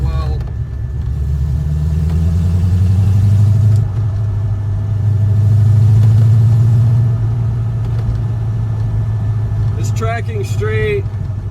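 A 1966 Ford GT-40 driven on the road, its engine a steady close rumble that rises and falls through gear changes, with someone talking over it throughout.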